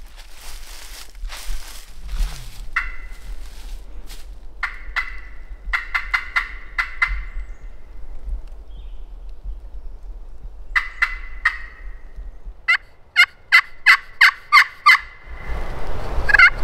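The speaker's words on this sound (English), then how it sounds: "He's cutting." Outdoors on a hunt, a wild turkey calls: soft clucks at first, then repeated bursts of sharp, rapid cutting notes that grow louder and end in a run of loud evenly spaced calls, with scuffing footsteps and rustle near the end.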